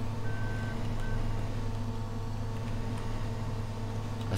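Steady, droning engine hum of a combine harvester in Farming Simulator 15, continuous and loud throughout, with a short pair of high beeps near the start.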